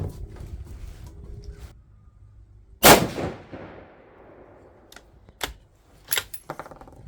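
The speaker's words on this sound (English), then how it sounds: "Let's see if we can get away with shooting the last group here." A 6.5 Creedmoor rifle firing 130-grain ELD-M loads produces one sharp, loud report with a decaying tail, followed by fainter cracks and clatters, with no voices.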